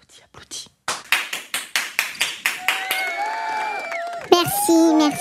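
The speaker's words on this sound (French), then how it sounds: "Veuillez m'applaudir, s'il vous plaît." An audience at a French senior-residence event claps in a series of distinct bursts that build, rhythmic and close, before voices and a rising tonal sound come in near the end.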